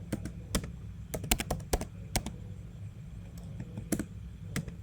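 Someone types C++ code on a computer keyboard nearby, giving a fast, irregular run of crisp key clicks over low background hum, with no talking.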